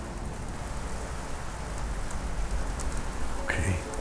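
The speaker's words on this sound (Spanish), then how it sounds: "Uy, está más fuerte la lluvia, ¿eh?" Steady heavy rain pours over an old hacienda during a storm, a dense continuous wash of drops that holds at an even level throughout, with a brief faint voice near the end.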